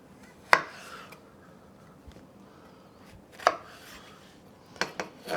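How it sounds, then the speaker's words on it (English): A knife chops cucumber on a board for Persian cold yogurt soup: a few sharp, close, isolated strikes spaced irregularly over a quiet background. "we go like this and chop to this size"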